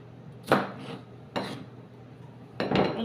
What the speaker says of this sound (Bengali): আমি তরমুজের সোলকাটি সব কেটে নেবো